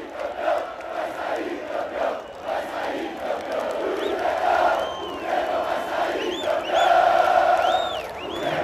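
Grêmio football supporters roar and chant in a stadium, a broad, sustained crowd wall of sound with rising shouts and whistles near the end.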